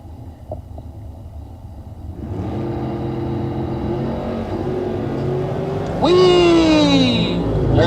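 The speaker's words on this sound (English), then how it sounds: "John Cazzetti in the wheelie wagon." A drag racing wheelie wagon launches down the track at a bracket race, its engine swelling into a loud, sustained roar with a rising whine near the end, heard from the stands under an announcer's commentary.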